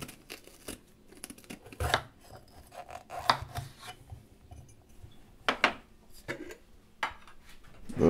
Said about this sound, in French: je vais découper mon poivron pour le faire rissoler